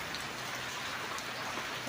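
Unseasonal winter rain pours steadily outdoors in rural Gujarat, a constant close hiss of drops striking surfaces, uniform and unbroken throughout.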